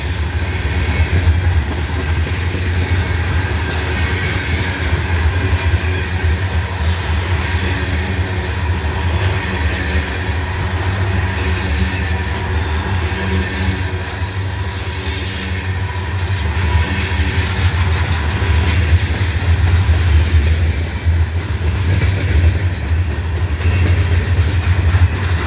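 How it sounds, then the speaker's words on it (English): A long freight train rumbles past steadily with deep low-end roar and metallic rattling, a brief high squeal of wheels midway, no voices. "looks like this must have been a short train here"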